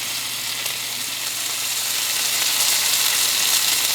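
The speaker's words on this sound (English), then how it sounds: "let your meat, whatever you're using to help build that gravy, get some color on it" Sausage browning in a pan with rendering fat for gravy makes a loud, continuous, close-up sizzle and crackle that holds steady throughout with no talking.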